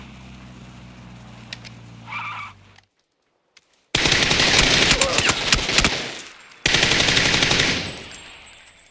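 Rifle gunfire in the PUBG video game: two dense bursts of rapid shots, loud and close, separated by a brief silence, with a few earlier scattered pops and game sounds.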